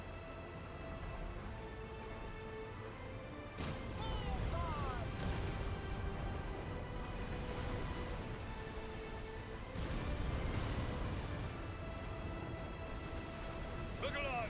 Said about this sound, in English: Let's try at those cannons. Fire! Cannons! Fire, Sora!